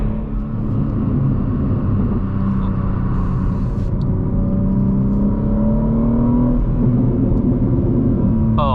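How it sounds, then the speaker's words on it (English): BMW M3 fitted with an IRL midpipe and AA downpipes, its exhaust burbling and rumbling steadily from inside the car on a drive, with the pitch rising and falling as the revs change and no talk. "Those BURBLES sound so insane."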